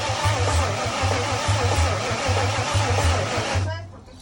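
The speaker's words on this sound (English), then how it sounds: "I was having an issue with starting the actual motor" Motor cranking and trying to start, a loud steady mechanical churn with a rhythmic low pulsing throughout, cutting off abruptly near the end; no talk.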